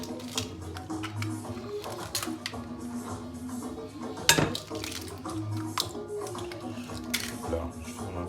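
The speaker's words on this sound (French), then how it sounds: "on va commencer par mettre nos 6 œufs. Dans un saladier." Six eggs going into a mixing bowl for an apple cake, a run of scattered clinks, cracks and wet drops in a quiet kitchen, with one sharper knock midway.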